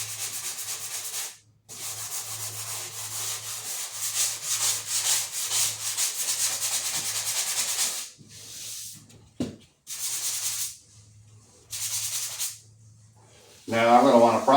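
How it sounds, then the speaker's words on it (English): Drywall joint compound being sanded by hand, with repeated rough scraping strokes in bursts separated by short pauses, close and fairly loud. "so I'm going to sand that out."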